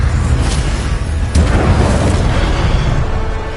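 A fiery blast bursts out when the Incendio fire spell is cast in Hogwarts Legacy, a loud whooshing boom with a sharp flare that rolls on as a sustained roar over a low rumbling game background.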